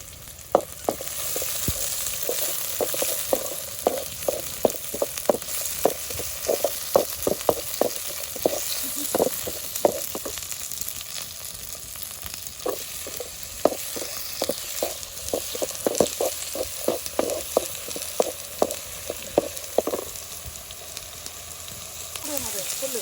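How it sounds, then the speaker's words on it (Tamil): Curry leaves crackle and sizzle in hot oil for a soya chunk gravy, with dense irregular popping bursts over a steady frying hiss throughout, close and moderately loud. "கருவேப்பிலை போடுறேன்."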